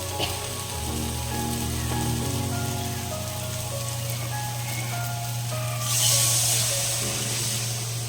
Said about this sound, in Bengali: তো এবার আমি জলটা ঢেলে দেবো